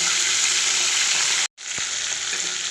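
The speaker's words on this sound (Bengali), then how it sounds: "মাছ ভাজা চলছে" Rohu fish sizzling in hot oil in a wok, a loud, steady close-up frying hiss that breaks off for a split second midway and then continues at nearly the same level.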